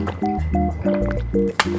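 A pear-flavoured drink being sipped and swallowed close to the microphone, with wet gulping, squishing and dripping sounds in short repeated bursts, then a brief clink near the end.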